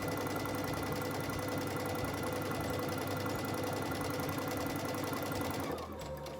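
Sewing machine stitching fabric for a quilt block, a steady close mechanical whirr with rapid rhythmic needle clatter that runs continuously, then stops abruptly near the end.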